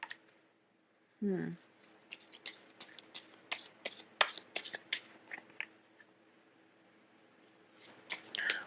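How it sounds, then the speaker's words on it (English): Tarot cards are pulled from a deck and shuffled by hand, producing a run of crisp, close flicks and soft slides after a brief rustle, with quiet gaps between bursts. "let me pull out the rest of the cards"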